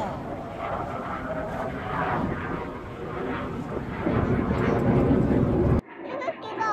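Jet airplanes flying an aerobatic display at an airshow, a loud sustained engine roar that swells and builds before cutting off abruptly, with people talking faintly beneath it.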